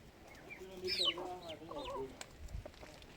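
Laying hens cluck and murmur softly in a farmyard, several short calls overlapping at moderate distance over a faint background hiss.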